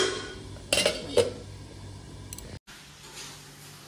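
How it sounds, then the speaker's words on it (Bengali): Metal lid set onto a pot of cooking meat, two sharp clattering clanks close by, followed by quieter kitchen handling noises and a brief dropout in sound. "এখন একটু ঢাকনা দিয়ে রাখি, আর এই বাটিটার মধ্যে গরম জলটা বসাবো।"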